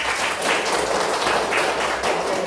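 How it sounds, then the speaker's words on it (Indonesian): Steady, dense applause from a classroom group, continuous for a couple of seconds with no talking over it. "tepuk tangan semuanya"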